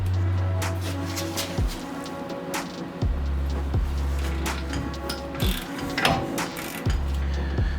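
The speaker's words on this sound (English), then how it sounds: "Put the wrench on one side, socket on the other, and you break them free" Wrench and 21mm socket working loose the axle nuts on a Nissan Rogue, a steady ratcheting mechanical rattle with heavy low thuds and several sharp clanks as the nuts break free, close and loud throughout.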